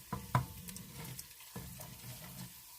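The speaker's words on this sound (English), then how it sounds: "And now, I just gave that a stir." Homemade gravy is stirred in a pot, with a spoon scraping and dragging through the thick sauce in a few soft strokes over a low simmering bubble, close and fairly quiet.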